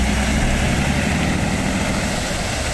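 A truck with a big diesel engine passing close, heard as a loud, continuous, heavy low rumble with broad roar throughout, no voices.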